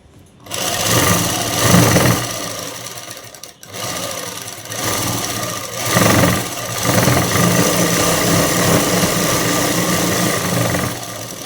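Sewing machine stitching a dress: a steady, loud mechanical whirring chatter running nearly the whole time, with brief slowdowns and a momentary stop, heard close and alone.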